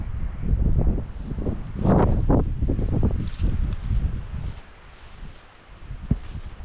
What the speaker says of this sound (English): It's a gorgeous spot, but it's so wind exposed.